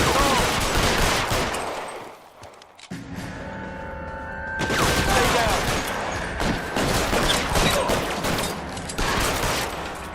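Gunfire in the crime video game LA Noire: dense, rapid bursts of shots, some in long machine-gun rattles, with a brief lull midway before heavy firing resumes, under occasional voices.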